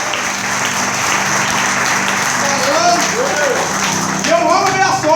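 A church congregation applauds continuously, a thick steady patter of many hands filling the sanctuary, with a preacher's voice and sustained tones mixed over it.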